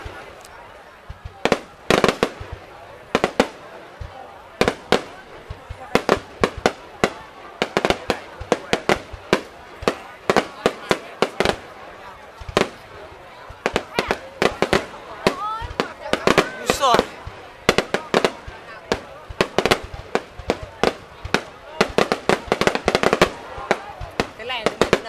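Fireworks and firecrackers going off repeatedly in Vietnam, a dense string of sharp bangs and crackles in irregular bursts, loud and close, with people talking in between.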